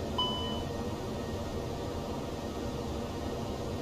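A short cockpit beep in an X-Plane 12 flight simulator, sounding once after the fuel crossfeed is switched on: a brief tonal chime near the start, over a steady hiss of engine and air noise.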